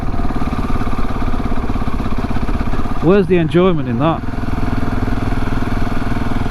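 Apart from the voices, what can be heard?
motorcycle riding slowly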